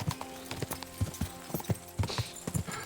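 Horse hooves clip-clop steadily in Kingdom Come: Deliverance II, a close, regular trotting rhythm of sharp thuds with some faint game ambience behind.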